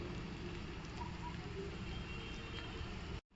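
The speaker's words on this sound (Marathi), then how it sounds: "कांदा आहे ना मऊ होईपर्यंत आपण त्याला छान असं आहे ना परतून घेणार आहोत" Chopped onion sizzles in a pan as it sautés until soft for a cluster-bean vegetable dish; a steady, crackling hiss at close range that cuts off abruptly at the end.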